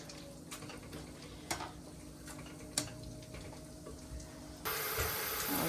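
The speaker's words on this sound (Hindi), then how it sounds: "पानी डाल रहे हैं अब हम इसमें।" Tap water runs steadily into a container of chickpeas being soaked, a soft continuous splash with a few faint knocks, then a louder, fuller gush of pouring near the end.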